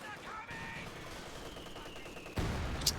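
PTRS anti-tank rifles fire in Company of Heroes 2, a faint distant report followed by a louder sharp crack near the end, set under quiet battlefield ambience with a passing whine.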